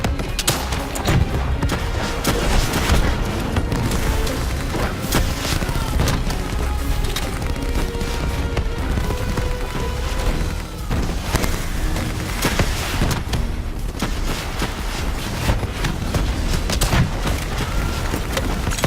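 Sustained gunfire and explosive booms from a boss fight in the video game Call of Duty Black Ops III, a dense, loud barrage of shots and blasts running continuously with game music and effects layered underneath.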